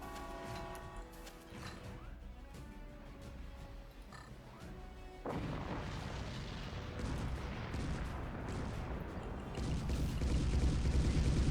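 Artillery firing in the RTS game Forts, a dense rumbling barrage that swells sharply partway through and grows louder toward the end, heard alone without talk.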